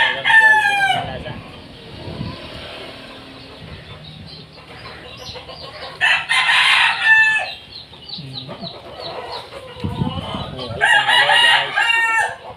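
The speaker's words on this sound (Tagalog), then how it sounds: "marami po talagang manok po dito" Chickens cluck and roosters crow loudly nearby in a rural Filipino yard with caged fowl, several crows repeating across the stretch over a low outdoor background, with someone briefly speaking.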